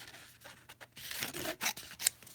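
Scissors cutting through an index card in a sewing and craft setting, a run of short crisp snips and rasping strokes, close and fairly quiet, with no voices.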